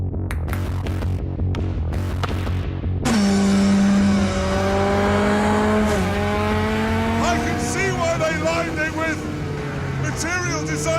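A BAC Mono, a half-ton sports car with 280 horsepower, screams through rising and falling revs as it drives hard, loud and close, with a voice talking over the engine and tire noise.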